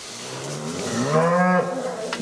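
Cattle in a barn where cows and calves spend the winter give a long, drawn-out moo that rises and swells, then fades, with no talk over it.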